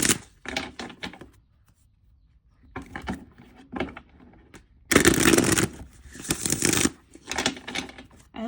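Oracle-style dream cards being shuffled by hand, several close, crisp riffling bursts separated by short pauses, with a longer, louder flurry of shuffling near the end and no talking.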